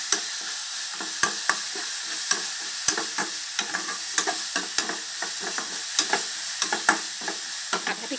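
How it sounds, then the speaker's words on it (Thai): Thai red curry paste is stir-fried in a wok, with a soft continuous sizzle broken by regular sharp scraping strokes of a spatula, close and fairly even in rhythm, and no voices. "ผัดให้พริกแกงหอมก่อน"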